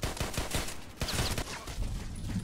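Rapid, repeated gunshots from an H&K USP pistol and other weapons in the shooter game Contract Wars, a dense burst of close fire lasting the whole stretch with no talk.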